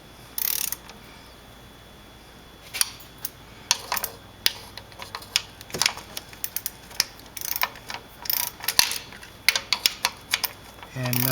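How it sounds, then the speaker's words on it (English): A torque wrench tightening the transmission pan bolts on a 1994 Mercedes E320 to 8 newton meters: a run of light, close ratcheting clicks, fast and irregular, ending in sharp snaps. "we're going to torque down the bolts to the specified 8 Newton meters"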